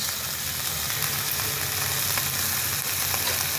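Flowers frying in oil with salt and turmeric hiss in a steady, dense sizzle that holds even and close throughout, with faint stirring beneath it.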